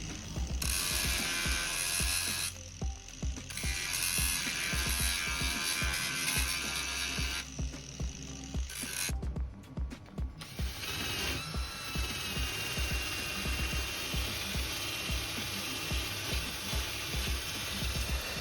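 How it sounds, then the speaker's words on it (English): A wire brush wheel scrubs freshly ground welds on the roof of a BMW E30, giving a loud, continuous mechanical whir with several brief pauses where the tool lifts off or stops. "After I'd ground it down, I then used a wire brush wheel."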